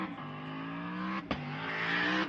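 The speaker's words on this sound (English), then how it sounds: "I can hear revs and all sorts of things happening." A race car engine at a roll racing event drones at high revs, holding a steady pitch, then briefly drops and climbs again as it accelerates past.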